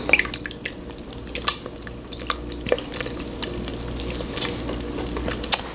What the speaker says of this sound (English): I'm going to use the whisk because we got to break up that egg yolk